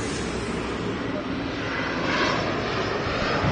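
An airliner passing at Los Angeles International Airport, a loud broad jet roar that holds steady and swells slightly toward the end, close and continuous with no talk over it.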